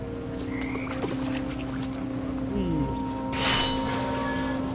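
Toads croak in the video game What Remains of Edith Finch, with a few low, scattered croaks amid a soft ambient game soundscape and a brief splashy swell.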